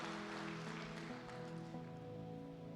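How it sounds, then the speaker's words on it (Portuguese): Congregation at a church service clapping together, a steady, soft wash of applause running under sustained musical tones for the whole stretch. "Uma salva de palmas para o Senhor Jesus"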